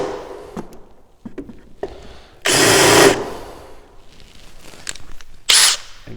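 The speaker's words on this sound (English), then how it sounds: "take my countersink bit, and I'm going to countersink the inside of those holes" A drill with a countersink bit countersinks screw holes in a wooden drawer front in two short bursts, a longer whir and then a brief one, separated by quiet taps and handling noises.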